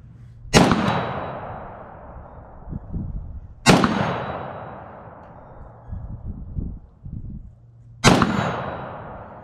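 Three loud, sharp rifle shots from a Finnish Valmet M76 in .223, fired outdoors off a bench rest, each crack followed by a decaying echo, spaced about three to four seconds apart with faint handling noise between.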